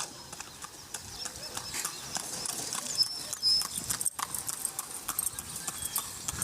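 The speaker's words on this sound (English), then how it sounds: "Horses and carts are pressed into action." Horses pulling carts on a street in Cuba, with hooves clip-clopping in a steady, overlapping patter throughout over a busy outdoor background.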